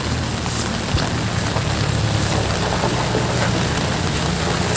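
Steady rain falls outdoors while fertilizer is spread in a garden or orchard, a dense, even hiss of drops running unbroken and fairly loud, with a low engine-like hum underneath and no talk.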